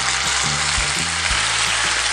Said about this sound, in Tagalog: Yan, mainit na yung ating oil dito sa ating pan, ipiprito na natin